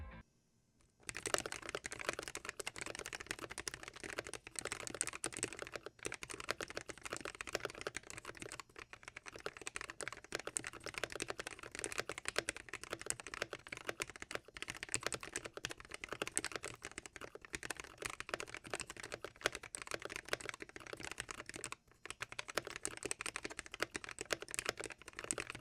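Continuous fast typing on a Gamakay K66 mechanical keyboard with freshly Crytox-lubed switches, dense clacky keystrokes running steadily for the whole stretch with a couple of brief pauses, close and clear with no talking.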